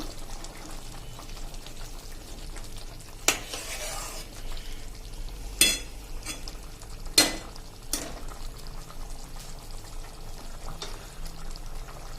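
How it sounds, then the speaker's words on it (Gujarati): A spoon scrapes and clanks against a pan while stirring a jaggery and ghee mixture, a few sharp knocks over a low, steady background hiss, with no voices. "હવે આને આપણે સરસ મિક્સ કરી લેશું."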